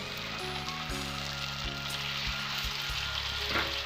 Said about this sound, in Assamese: তেল দিলোঁ আৰু তেলখিনি গৰম হ'বই তাৰ লগত কোনো কথা নাইকিয়া মই এতিয়া মাছখিনি দি দিম